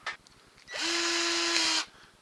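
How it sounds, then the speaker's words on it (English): A power drill boring pin holes in a wooden patio furniture storage piece gives a short tap, then one steady high whirring run of about a second close by, with no talk. "I'm just going to drill"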